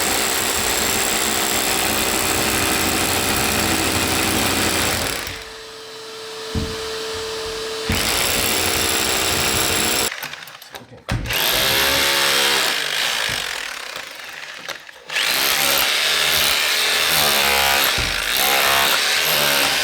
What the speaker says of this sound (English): we're going to try to bore through the concrete floor and see if we can't get on top of the block